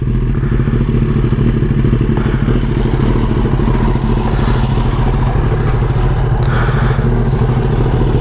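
A warmed-up 2022 Kawasaki ZX10R motorcycle engine rumbles loudly and continuously up close, a steady throbbing drone with faint clatter and no pauses.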